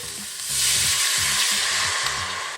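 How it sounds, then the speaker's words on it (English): Soy sauce and rice vinegar hit a hot Instant Pot while braising pork shoulder, bursting into a loud, steady hiss that swells and holds, with a faint scraping stir underneath. "Adding my soy sauce and vinegar."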